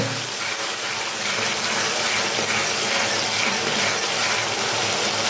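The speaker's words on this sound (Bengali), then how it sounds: "তো এটা আমি ভালো করে কষিয়ে নেব" Spices with garlic and onion sauté in a pan for a kohlrabi curry, a loud, steady hiss of frying that runs unbroken throughout.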